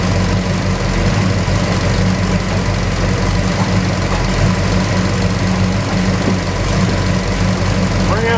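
A Pontiac GTO engine idles with everything switched off, a steady low rumble that stays constant and loud, close by, with no voices over it.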